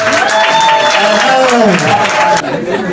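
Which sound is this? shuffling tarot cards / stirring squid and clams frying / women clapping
women clapping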